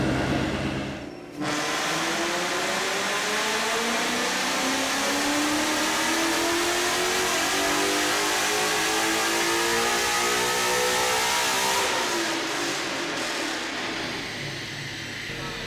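A 2018 Ford Mustang GT V8 with bolt-on upgrades revs hard and loud at close range, holding a sustained roar that climbs and then eases off, with a brief dip near the start.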